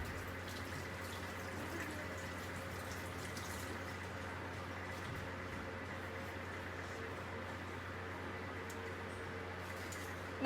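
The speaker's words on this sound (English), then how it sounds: "So I'm going to wash my hands" Hands are washed under a running kitchen tap, the water a faint, steady hiss and splash that continues evenly for about ten seconds without any voices.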